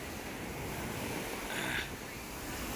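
Sea waves wash onto Oho beach in a steady broadband roar, with wind buffeting the microphone and a brief surge swelling near the end.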